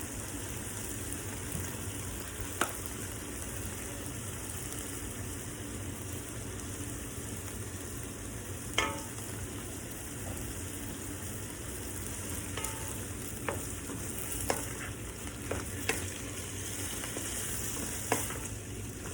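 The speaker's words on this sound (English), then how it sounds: "Okay, so I got my meat to where I like it. It's browning, charring a little." Pork curry meat browning and charring in a pan gives a long, even sizzling hiss, softly recorded, with occasional scrapes and clicks of a utensil stirring it.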